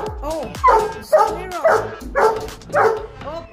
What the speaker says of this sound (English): He's barking on the squirrel. Very loud.